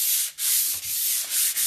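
Steady, hissy rasp of sandpaper rubbing over painted nightstands in back-and-forth strokes, close and fairly loud, with brief pauses between passes.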